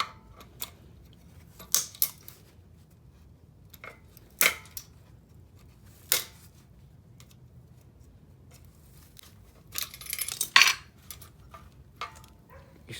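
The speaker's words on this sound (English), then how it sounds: "Just break the gear." Plastic governor gear being snapped out of a 212 Predator mini bike engine, heard as a few sharp, close cracks and clicks separated by quiet pauses, with a brief cluster of crunching snaps near the end.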